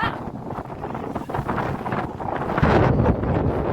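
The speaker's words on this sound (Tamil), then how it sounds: "பயங்கர காத்தா இருக்குங்க" Strong wind at a scenic viewpoint buffeting the microphone in continuous rumbling gusts that swell louder near the end, with no speech.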